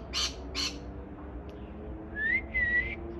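Green parakeets in a garden give a few shrill, whistled calls: two quick bursts near the start, then a louder rising squawk and a sustained whistle, close and clear against a quiet background with no talking.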